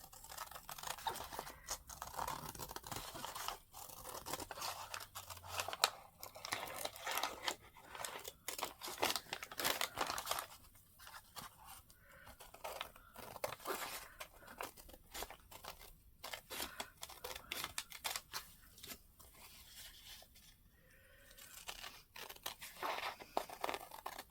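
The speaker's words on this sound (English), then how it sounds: "I'm going to try to cut this. I probably shouldn't do that with it being so wet" Scissors cutting through wet, soggy junk mail paper, with repeated close snips, tearing and crinkling over about 24 seconds in an irregular rhythm.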